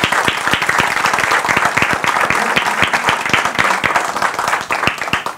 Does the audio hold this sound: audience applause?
yes